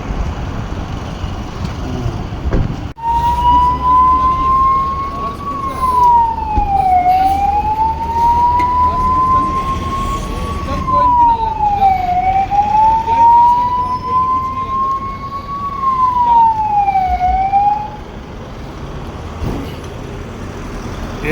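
An ambulance siren on a highway in Himachal after a road accident, wailing in a slow rising-and-falling sweep that repeats about every five seconds. It is loud and steady over a low traffic rumble, with no voices.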